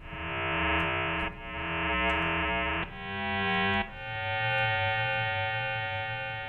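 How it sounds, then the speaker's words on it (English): A synthesizer holds long, buzzy sustained notes that shift pitch a few times, each swelling and trailing off into a reverberant wash. "I can add some reverb."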